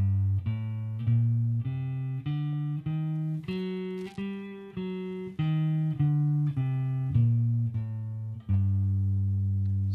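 Guitar playing a G harmonic minor scale, single clean notes rising one by one and then coming back down, each plucked note ringing clearly with no voice over it.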